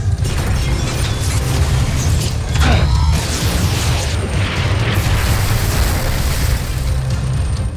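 Rockets fire and explode in a Voltes V Legacy robot battle scene, a continuous loud roar of blasts and rumbling with a sharper burst near the middle, filling the whole stretch with no talk.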